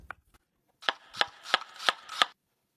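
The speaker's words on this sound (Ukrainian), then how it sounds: "Нарізаємо сир кубіками." Five crisp, evenly spaced knife chops through cheese cut into cubes on a board, each a sharp close thud, with no talking.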